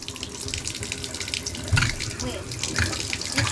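A shower running into a bathtub in a rental home bathroom, a loud steady spray of water with splashing surges, heard close up while a person speaks over it.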